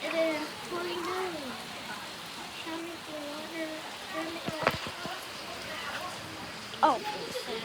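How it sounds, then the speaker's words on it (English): Heavy rain pours down during a thunderstorm, a steady hiss of falling water beneath a voice speaking throughout, with a few louder knocks and bumps. "It is pouring down."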